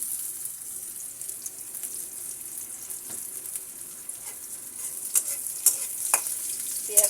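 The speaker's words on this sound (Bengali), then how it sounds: "আমার এখানে পেঁয়াজ কুচি একটু কম দেওয়া হয়েছিল আরও একটু পেঁয়াজ কুচি আমি এখানে অ্যাড করলাম" Fish frying with extra chopped onion in a pan, a constant bright sizzle with intermittent spatula scrapes and taps that grow busier toward the end, close and moderately loud, no voices.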